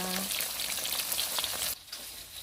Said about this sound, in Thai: แม่ก็จะทอดซะก่อนเนาะ ทอด ทอดให้มันซุกแล้วก็กรอบนิดหน่อยเนาะค่ะ